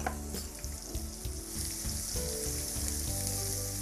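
Finely chopped onions fry in a pan, a close steady sizzle with rhythmic stirring and scraping sounds throughout.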